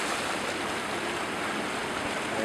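A backyard hot tub runs with its jets and bubbles going, a steady, even rushing and churning of water, fairly loud and unbroken throughout.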